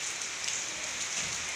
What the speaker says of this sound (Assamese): ইমান বৰষুণ দিছে ভয়ে লগা হৈ গৈছে ইমান পানী